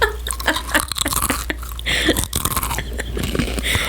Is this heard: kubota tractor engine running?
no